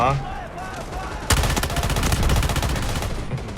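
Gunfire in the mobile shooter Delta Force Mobile erupts suddenly into a loud, rapid, sustained automatic burst after a quieter stretch, with someone talking underneath.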